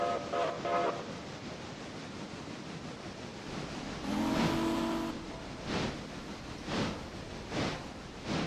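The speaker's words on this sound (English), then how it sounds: "Okay, so we're just gonna send the passenger train over here." Passenger train running in a railroad video game, a steady rumbling roll with a brief horn-like tone partway through and repeated rhythmic clacks toward the end.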